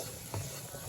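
Garlic and onions sizzle together in a frying pan, a short, fairly faint hiss with a brief stir of the pan partway through.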